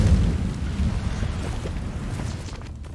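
The Incendio fire spell cast in Hogwarts Legacy gives a steady, rumbling roar of flame. It is loud and continuous for about three seconds and eases off slightly toward the end.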